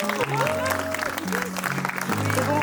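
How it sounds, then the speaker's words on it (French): Hearty applause at a wedding celebration, a dense crackle of clapping from the gathered guests, with voices and tonal sounds carrying over it throughout. "On peut encore les applaudir bien fort."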